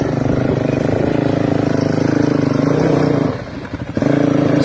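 Dual sport motorcycles on a rough mountain trail during a group run at Redonda Ridge, Big Bear: a loud, steady engine drone close by with a brief dip and clatter near the end before the throttle picks up again.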